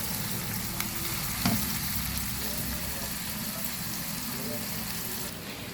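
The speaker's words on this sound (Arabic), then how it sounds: "بنحمر البصل اهي" Onions frying in a pan, a steady loud sizzle lasting several seconds with a sharp clack of the pan partway through.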